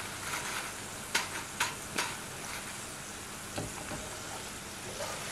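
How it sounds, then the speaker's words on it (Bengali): Crispy Bengali nimki frying in hot oil, a steady dense sizzle with a few sharper pops and spatters breaking through, close and even throughout with no talk. "এইভাবে কিন্তু বাকি নিমকিগুলো ভেজে নেব।"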